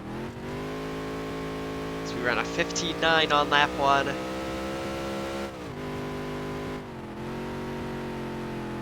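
A NASCAR stock car engine held in third gear in NASCAR Dirt to Daytona drones steadily as a constant, fairly loud tone through the clip, with someone talking briefly over it in the middle.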